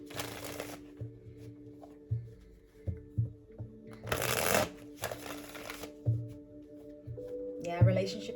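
Tarot cards being shuffled in a card-reading session, with repeated riffling bursts and soft papery slaps recurring under a low steady hum and light background tapping.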